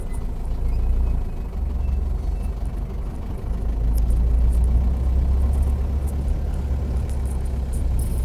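An Ambassador car fitted with a five-speed gearbox drives along, its engine giving a continuous low rumble mixed with road noise that swells slightly midway, heard from inside with no talking.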